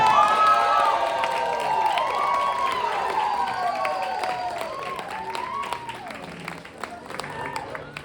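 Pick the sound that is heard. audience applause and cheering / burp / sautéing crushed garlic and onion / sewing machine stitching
audience applause and cheering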